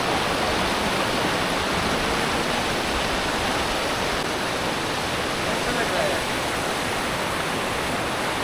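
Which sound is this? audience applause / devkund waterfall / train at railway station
devkund waterfall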